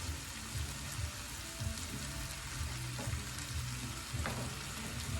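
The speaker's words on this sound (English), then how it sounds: "Stir up my other curries." Curries cooking in a pan, a steady close sizzle and bubbling hiss with a few faint stirring knocks, quiet and continuous with no talk.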